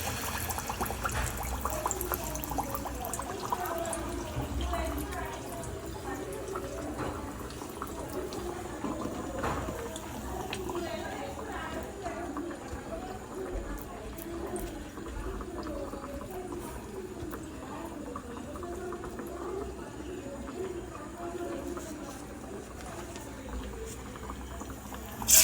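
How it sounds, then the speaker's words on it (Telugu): Hot oil in a pan crackles and sizzles steadily while frying palm-fruit fritters, a dense continuous bubbling hiss at close range that lasts throughout. "ఆయిల్ కాగిందా లేదా అని నీళ్ళు ఇలాగ అనుకుంటే ఆ సౌండ్ వస్తే కాగినట్టే నూనె"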